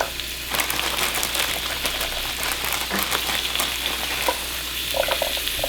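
Celery and baby carrots sizzling in an Instant Pot, giving a dense, steady crackling hiss with scattered pops and a low hum underneath, close and continuous with no talking.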